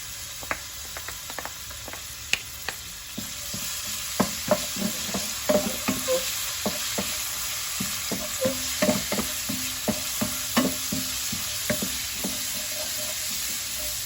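Garlic fries in a small amount of oil, a constant sizzling hiss broken by frequent clicks and scrapes of a utensil stirring the pan, with no talking.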